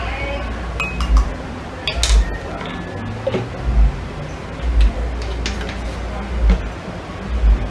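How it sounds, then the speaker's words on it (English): A spoon stirring a homemade gargle mixture in a glass, clinking lightly against the sides in a repeated rhythm, close and moderately loud over a low background hum. "mix that up a bit."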